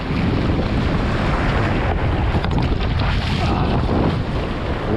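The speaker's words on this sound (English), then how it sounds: "It's windy." Strong wind roars steadily across the microphone with constant buffeting, a broad rushing gust that never lets up for the whole stretch.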